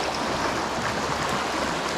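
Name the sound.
swollen creek flowing swiftly after heavy rain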